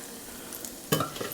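Panko-coated tofu dropped into a deep fryer, a short burst of hot oil sizzling and bubbling, close and brief.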